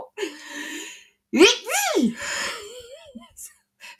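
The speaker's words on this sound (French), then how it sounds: "attention, je vais éternuer" A single drawn-out, voiced sneeze with a rising, wavering build-up before the burst, close and fairly loud, followed by soft vocal sounds.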